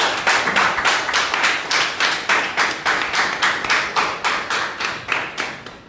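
Guests at a student's thesis defence clap together in a steady, evenly paced rhythm, roughly three claps per second, crisp and close for several seconds without talk.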